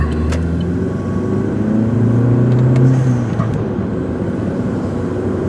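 A four-cylinder car engine runs while driving in morning traffic, a loud, steady low rumble that rises slightly in pitch as it builds, then eases back into an even drone with no one talking.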